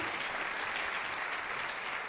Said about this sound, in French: mais alors il faut applaudir et tout, sinon ça va être fort long